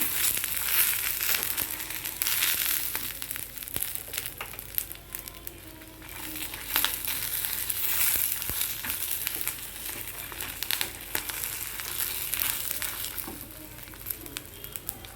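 Curry leaves crackle and sizzle in hot oil in a pan while peanut chutney is being made, a loud, dense spitting hiss with crisp pops throughout.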